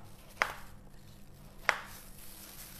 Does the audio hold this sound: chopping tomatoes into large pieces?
yes